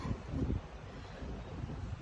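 Low, rumbling wind buffets steadily close by on a roof, a dull, gusty roar with no other distinct sounds.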